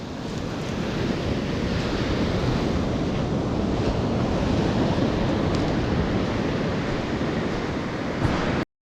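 Strong typhoon swell surf breaking along an Amami Ōshima beach, a steady loud roar of waves with wind buffeting the microphone, continuous for the whole stretch and cutting off abruptly at the end.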